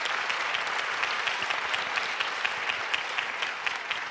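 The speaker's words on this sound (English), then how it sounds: "That deserves an applause." An audience at the Akron mayor's State of the City address breaks into steady applause, dense clapping sustained for a few seconds at moderate loudness.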